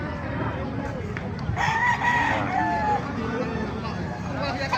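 A rooster crows once at the Bocaue, Bulacan chicken market, a clear call rising over crowd babble and nearby talk.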